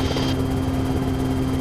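A helicopter on approach to an airport runway, coming in on the west side of the final, gives a steady, loud rotor and engine drone with a constant low hum throughout.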